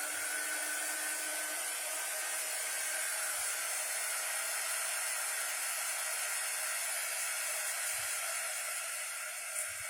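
A hair dryer blows steadily and loudly at close range throughout while drying a dog, a constant broadband whoosh with a few faint low thumps underneath.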